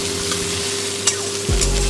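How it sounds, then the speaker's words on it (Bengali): Potatoes and pointed gourd fry in a pan with a steady, close sizzle over a low continuous hum, broken by a brief stir or clatter. "এভাবে আমি হালকা হালকা করে ভেজে নেব।"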